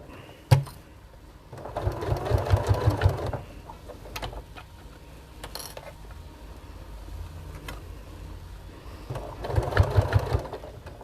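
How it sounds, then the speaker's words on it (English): A sewing machine stitching a bag and reversing a few stitches to secure the seam, running in two short whirring bursts with quieter mechanical ticking and clicks between them, close and alone. "I am going to go back a few stitches just to make sure it's secure"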